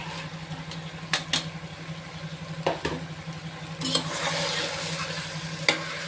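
Potatoes and green peas are stirred in a pot for vegetable biryani, giving several sharp scrapes and knocks of a spoon against the pot over a low hum. A gentle sizzle swells near the end.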